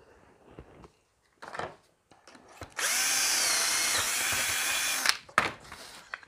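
A power drill boring into wood for a biscuit joint, a loud steady whine of a couple of seconds after brief handling knocks, followed by more tool clatter.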